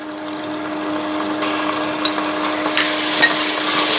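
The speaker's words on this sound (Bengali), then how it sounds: "এইভাবে মশলাটাকে ভালোভাবে কষাবো।" Whole spices, cardamom and garam masala with ginger paste being sautéed in a pan for pea pulao, a low steady sizzle with a few light stirring scrapes and clicks, close by, with no talking.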